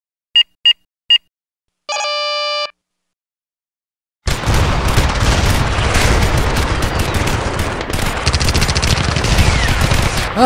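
A ship turret fires in a video game running in the Cryengine editor. Three short electronic beeps and a held tone lead into a loud, sustained burst of rapid gunfire and blasts.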